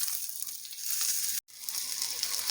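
Tomato, onion, garlic and ginger sizzle in a pan for palak paneer, a steady close frying hiss with a brief cut to near silence midway before the sizzling continues.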